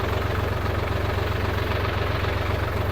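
A Solis 50 RX small tractor engine idles close by with a steady, even low throb and a fast rhythmic chug, with no voices over it.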